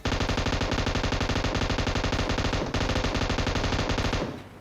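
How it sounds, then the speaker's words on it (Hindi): Sustained automatic gunfire from the video game PUBG, a rapid, loud, evenly spaced burst that continues for about four seconds before cutting off, with no voices. "लेकिन जब ये गोलियां चलाने लग गया"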